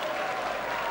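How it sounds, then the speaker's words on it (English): A darts crowd at the 1992 BDO World Darts Championship final applauds a 12-dart finish, a brief burst of steady clapping from a large audience, loud and continuous with no speech. "Applauding a 12-dart finish there from Mike Gregory."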